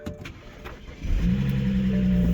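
A single-turbo BMW 335i engine cranks and catches after a moment of quiet, then settles into a steady, close idle.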